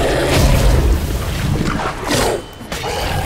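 Heavy explosive booms from bombs thrown during combat in The Witcher 3's Hearts of Stone expansion, loud and rumbling, several blasts rolling one into another with crashing debris.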